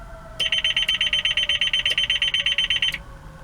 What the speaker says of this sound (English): you'll hear the activation, the alarm, acknowledge that you hit the button